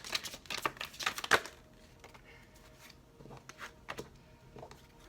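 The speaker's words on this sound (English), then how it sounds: "this will be our last shuffle" Tarot cards shuffled by hand in a few quick riffling bursts in the first second and a half, then softer, scattered card rustles and taps, close and fairly quiet.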